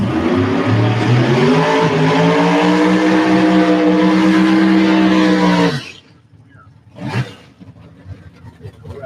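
1963 split-window Chevrolet Corvette at a Mid-West Drag Racing event in Houston, a loud, sustained engine roar with rising pitch that cuts off abruptly, followed by quiet and a brief distant burst.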